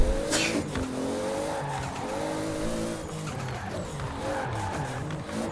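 Racing cars in the Forza video game, including a BMW i3, with steady engine drone, shifting revs and brief tire squeals, moderately loud and continuous with no speech over it.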